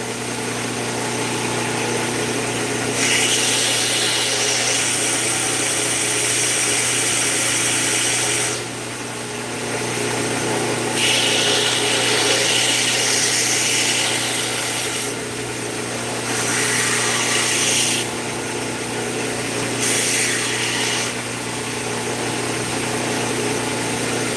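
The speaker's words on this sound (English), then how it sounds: "So I'm just going to grind the choil there" A belt grinder works the choil of a handmade knife blade, a steady loud motor whine with abrasive grinding that swells and eases in several passes over the workpiece, with no talking.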